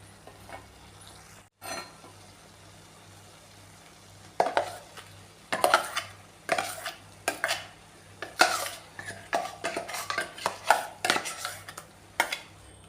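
Ground coconut paste being stirred into a simmering cucumber curry in a pot in a Kerala kitchen, with a string of close, irregular scrapes and clinks of a spoon against metal over a faint low hum.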